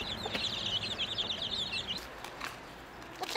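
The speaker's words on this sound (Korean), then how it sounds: "병아리들 엄마 노릇 톡톡히 하는 세진인 오늘 특별식 모의를 만들어줄 생각" Chicks cheep and cluck faintly in a flurry of small high calls with a brief flutter of wings, fairly quiet and close, mostly without talk.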